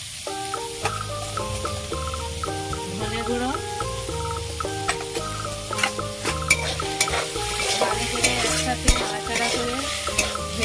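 Spices with cumin powder fry and get stirred in a pan for a vegetarian Bengali dish, giving a continuous close sizzle with scraping and clinks under steady background music.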